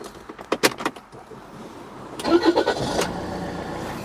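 A Rover 75 car engine cranks and catches, preceded by a few sharp clicks and key or door clatter, then settling into a steady close idle.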